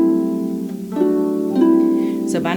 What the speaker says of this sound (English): where I play halfway down between the normal position on a harp